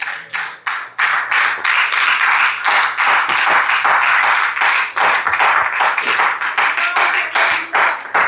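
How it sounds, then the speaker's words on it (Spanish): A church congregation applauds loudly and continuously, with dense overlapping hand claps and some sharper rhythmic claps, nearby and sustained for several seconds. "¿Cuánto le dan un fuerte aplauso al Señor?"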